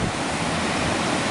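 Sea waves wash in a steady, dense hiss on Haad Rin beach, Koh Phangan, a brief stretch of surf with no voices over it.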